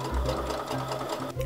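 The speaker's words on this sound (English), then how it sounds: "I pinned all the pieces together and then ran them through the sewing machine." A sewing machine stitches pinned pieces of a brown period dress together, its motor whirring in a steady, close, continuous run with a brief pause near the end, and no voices.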